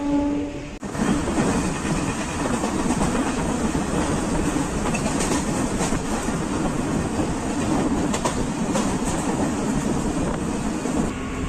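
A train rolls steadily along the rails in India, a loud continuous rumble with clattering wheels and faint metallic squeals, heard from close by on board a festival special train to Tirupati.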